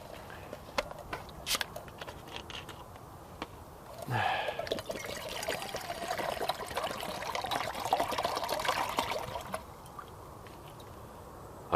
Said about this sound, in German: Halb Liter Wasser für einen Kaffee sollte reichen